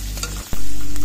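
Onions fry in a pan for a Bengali home-cooked dish, a steady loud sizzle that briefly drops out, then returns stronger and holds to the end, with no talk.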